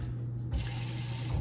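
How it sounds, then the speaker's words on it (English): Kitchen tap turning on to add water while cooking, a sudden hiss of running water that continues steadily over a low constant hum. "Add just a little water."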